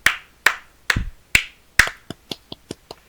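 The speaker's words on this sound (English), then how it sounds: "you get claps" Sharp hand claps ring out in a quick series, five louder, spaced strikes followed by several lighter, faster ones, close and alone with no talk.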